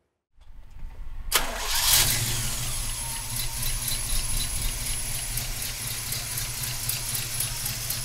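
A restored 1967 Pontiac Firebird 400 cranks briefly and fires up close by, then settles into a loud, steady, rumbling idle that continues to the end with no one talking.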